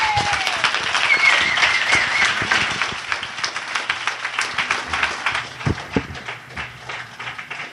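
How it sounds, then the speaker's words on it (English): Audience applause for Peter at the close of a street epistemology Q&A, loud clapping that thins into scattered, distinct claps toward the end with no talk over it. "One more big round of applause for Peter"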